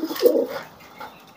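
A single Lahore pigeon gives a low, soft coo, close by, followed by a fainter second note.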